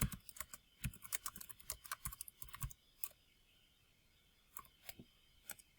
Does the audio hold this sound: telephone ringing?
no